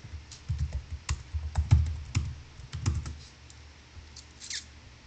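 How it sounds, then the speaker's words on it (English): Fingers tap on a computer keyboard in a quiet, close, irregular patter of key clicks, with a few short bursts and brief pauses and no voices. "Maybe I just have to type it in."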